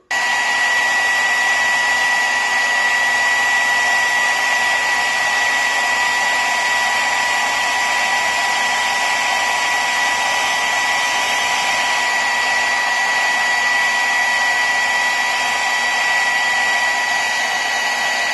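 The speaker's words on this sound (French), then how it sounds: "On va prendre à nouveau le séchoir et pareil, on va sécher environ entre 15 à 20 secondes." A hair dryer blows steadily to dry paint on a scale model cockpit, a loud, continuous whirring hiss with a constant whine that holds unchanged for the full length, with no other sounds.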